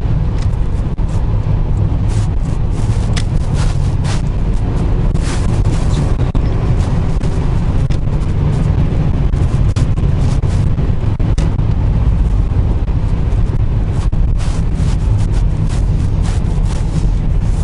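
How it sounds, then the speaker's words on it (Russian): A Toyota Camry 40 with a 3.5-litre V6 under load, its deep, bassy engine and exhaust droning loud and constant throughout with no talking. "и выхлоп уже слышен, и звук двигателя слышен, это уже басистости достаточно."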